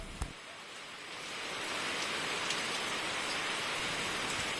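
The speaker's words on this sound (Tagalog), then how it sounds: "Pagsapit ng hapon ay bumuhos ang malakas na ulan." Heavy afternoon rain pours down in a rural province, a steady dense hiss that swells after the first second and then holds loud and unbroken, with no voices.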